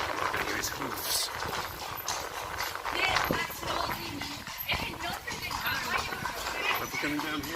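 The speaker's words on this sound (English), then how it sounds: "Here is hoofs." Horse hooves clip-clop on the streets of Bruges in a steady, mid-distance rhythm, layered under ongoing chatter and background crowd noise.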